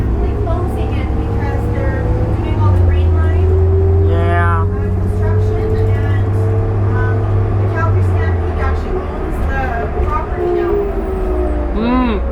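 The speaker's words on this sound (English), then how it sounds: "This bus sounds great." A 2004 New Flyer D40LF city bus engine drones steadily during a ride, with a low, loud rumble and rising and falling whines as it accelerates, while people talk over it.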